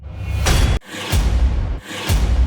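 Three swelling sweep-and-impact hits from the Cashmere sample pack for a progressive house build-up, each a rising whoosh ending in a heavy low boom, loud and unaccompanied, repeating about once per second.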